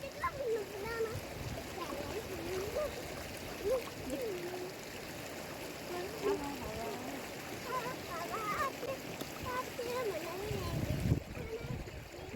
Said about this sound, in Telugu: నీళ్ళు బాగా పడుతున్నాయి